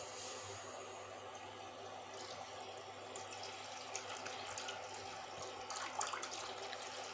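Water poured into a pan on a lit stove for making sugar syrup for chhana jilipi, a steady broadband splashing pour lasting several seconds with a slightly louder gush near the end, no voices.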